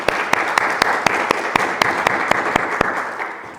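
A church congregation applauds during a Sunday worship service, dense steady clapping with a few loud near claps standing out at regular intervals, thinning slightly at the very end.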